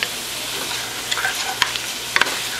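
Mushrooms being stirred in butter in a pot for cream of mushroom soup, a close continuous sizzle with a few sharp clinks and scrapes of the spoon against the pot, no talking.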